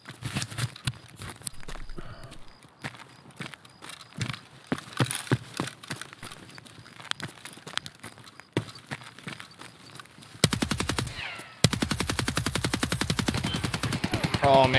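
Rapid gunfire in the shooter game Escape From Tarkov, fired through a four-power scope: scattered single shots early, then dense bursts of fast automatic fire toward the end, loud and close with no talk over it.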